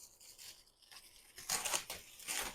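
A plastic bag packed with a US General tool cart is torn open by hand, giving several rough, crinkly ripping bursts that grow louder toward the end, close up with no talk.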